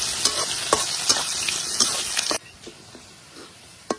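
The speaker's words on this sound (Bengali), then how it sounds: "পেঁয়াজ আর রসুনটারে একটু লাল করে বাইতে নিন" Chopped onion and garlic frying in a pan, a bright sizzle with a few sharp taps and scrapes of stirring, then the sizzle suddenly quiets to a soft hiss with one last clack.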